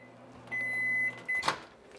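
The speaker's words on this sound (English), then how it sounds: "now in just a few seconds, microwave's got to go off" A microwave oven beeps twice, a long beep then a short one, followed by a soft click of its door in a quiet room.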